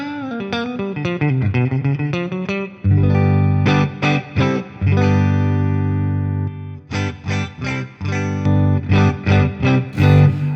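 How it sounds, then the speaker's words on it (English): Electric guitar played through an IK Multimedia TONEX amp modeler with reverb and some distortion, first a quick run of picked notes, then sustained ringing chords and rhythmic stabs, loud and close with a reverb tail. "Let's put a bit of reverb. So we've got reverb."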